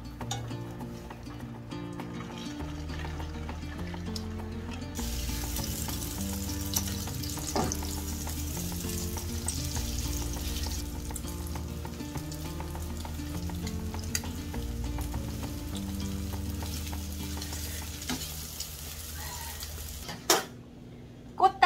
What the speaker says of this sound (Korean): 냉이 아주 송송 다져가지고 지금 계란말이 할 거예요